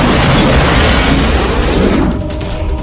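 A massive explosion erupts as a boat rams a cruise ship in the film Deep Rising, a loud, dense roar that fills the whole stretch and then eases slightly into a rumbling tail.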